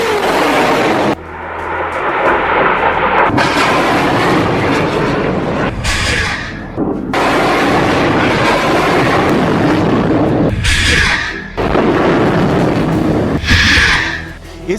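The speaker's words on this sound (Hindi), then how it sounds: "एक के बाद एक हमास 10 रॉकेट फायर करता है।" Ten Hamas rockets launched one after another from Gaza toward Israeli cities: a sustained loud roaring rush, broken by brief drops near one, six, eleven and fourteen seconds as each launch gives way to the next.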